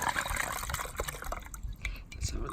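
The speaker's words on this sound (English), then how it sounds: "now we're going to wash the machine out and see if a whole load of sludge" Water gushing and splashing as it flushes through an Atomic coffee machine during cleaning, a steady wet rush with dripping and sputtering throughout.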